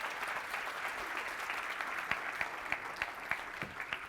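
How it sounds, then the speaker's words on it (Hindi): An audience at a business testimonial event breaks into steady loud applause, a dense wash of clapping with a few sharper individual claps standing out, no talking over it. "एक बार जोरदार ताली बजा दो"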